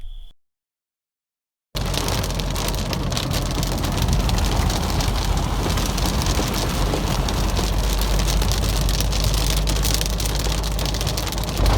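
Steady, dense rain pours down on an off-grid homestead in Portugal, a continuous hiss of drops striking a hard surface, loud and close, after a brief moment of silence at the start.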